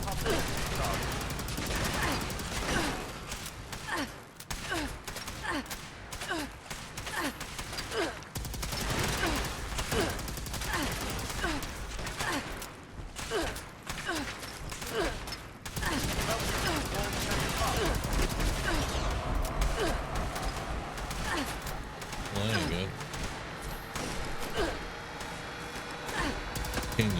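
Rapid automatic gunfire and bursts of shooting in the video game Fallout 76, loud and nearly continuous throughout with dense overlapping shots and occasional game sounds.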